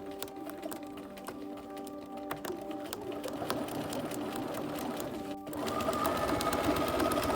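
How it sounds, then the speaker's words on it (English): A home sewing machine stitches across gathered fabric to set a ruffle in place, running in a steady rapid patter with a faint hum, then getting a bit louder and busier near the end. "Sew all the way across the gathers to set it in place."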